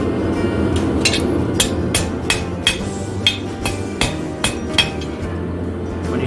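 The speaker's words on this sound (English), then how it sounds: "When you strike directly on the anvil, it kind of opens that up." A hammer rings steel against an anvil while a fire poker is forged, striking in a steady series of bright metallic clinks over a constant roaring forge fire.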